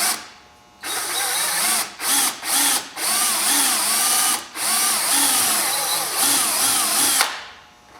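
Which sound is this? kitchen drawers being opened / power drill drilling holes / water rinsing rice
power drill drilling holes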